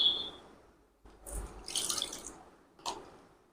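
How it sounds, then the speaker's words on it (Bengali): Tap water runs in short bursts into a bowl being rinsed while making a yogurt lassi, starting close and splashy, pausing, then returning in a brief final gush. "বাটিটা ধুয়ে একটু জল দিয়ে দিই"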